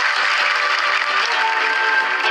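A studio audience at an Indonesian Quran memorisation contest claps for a contestant, a loud, even stream of hand claps held throughout the brief stretch.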